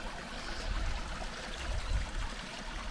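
Faint, steady rushing and trickling of water flowing through a stone culvert beside a hiking path in the Upper Harz, continuous and fairly distant with no voices.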